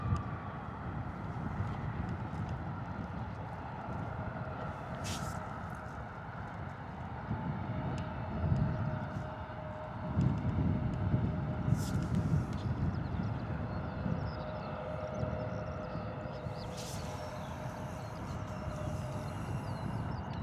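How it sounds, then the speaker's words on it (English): A KLM Embraer E175 jet at Bristol Airport spools up its engines for takeoff, a steady distant roar and whine that swells and holds across the stretch with some wind buffeting, no talk. "Spooling up the engines, a bit of a turn and burn here for the KLM by the sounds of it."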